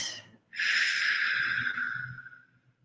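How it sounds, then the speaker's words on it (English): One slow, audible exhale through an open mouth at the end of a guided relaxation breath, close and fairly loud, tapering off over about two seconds with no speech. "Opening your mouth, breathing out."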